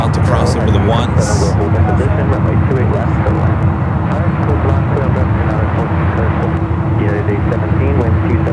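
A Lufthansa Boeing 747 jet taxis at San Francisco airport, a steady, fairly loud engine rumble and whine that carries throughout while people talk over it.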